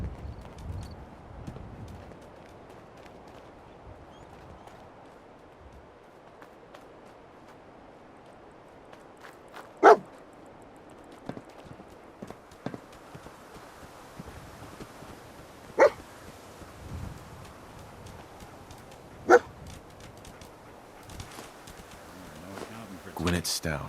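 In the Fallout 4 video game, the dog Dogmeat gives a few sharp, isolated barks spaced several seconds apart over quiet ambience and soft footsteps.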